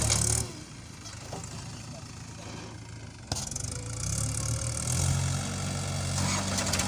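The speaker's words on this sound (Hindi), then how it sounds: "दोनों को हम साथ चलाएंगे ट्रैक्टरों को।" Mahindra and Farmtrac tractors run side by side for a race, their engines giving a steady mid-pitched idle and rumble that swells louder partway through, with voices talking over the running motors.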